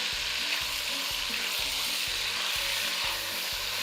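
Meat sizzles and sears loudly in a hot pan, a steady dense crackle with regular rhythmic stirring or scraping under it and no talking.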